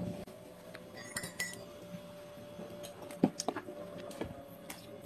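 Cutlery and a plate clinking faintly as mayonnaise is spread on bread slices, scattered light taps and scrapes in a quiet room.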